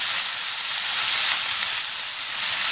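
Red wine vinegar poured around a hot pan holding a pot roast hisses in a steady, loud, bright sizzle that holds evenly throughout, with no talking.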